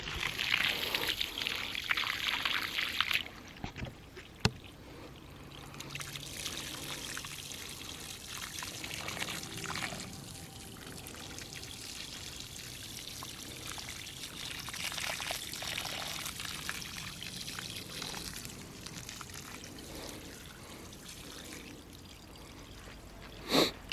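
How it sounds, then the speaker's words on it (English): Water runs steadily from a hose onto trees in an orchard, a continuous outdoor pour and trickle with faint background noise and a few brief knocks. "Just water these trees quick"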